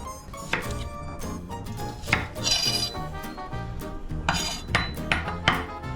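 A knife chops onion on a board with sharp, irregular knocks and clinks that arrive in quick bursts, fairly close and clear, with no talking.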